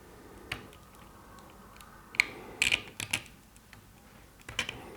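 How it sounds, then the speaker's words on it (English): Small metal screw being driven into a stepper motor while assembling the E-axis of a Prusa MK3 3D printer, heard as quiet, scattered mechanical clicks and ratcheting ticks close by with no talking. "This is the last screw that has to be threaded all the way into the motor."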